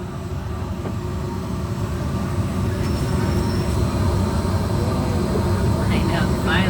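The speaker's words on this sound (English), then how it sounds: "Welcome aboard the Disneyland Monorail." A steady low rumble and rolling hum fill the cabin of the Disneyland Monorail as it runs along, with faint squeaks and speech drifting in near the end.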